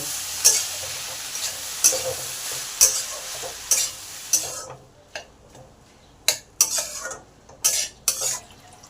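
Banana flower being stir-fried with spices in a pan, a spatula scraping and turning in repeated rhythmic strokes about every half second over a crackling sizzle, with a brief lull midway before the strokes resume; no speech.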